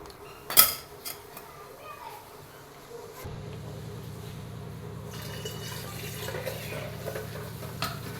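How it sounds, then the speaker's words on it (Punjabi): A few metal clinks at first, then a steady stream of water pours into a pot of milk and ice for a cold sweet drink, a continuous filling rush that lasts to the end. "ਤੇ ਵਿੱਚ ਪਾ ਲਵਾਂਗੇ ਪਾਣੀ"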